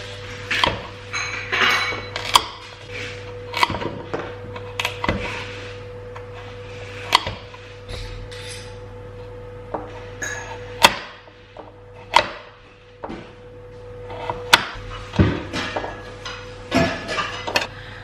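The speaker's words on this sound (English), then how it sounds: "now that the squash is cut up, I can now put it into small pieces, about 1 centimetre" A knife chops butternut squash into small cubes on a board, with crisp, uneven taps repeating every second or so, close and clear, over a steady low hum.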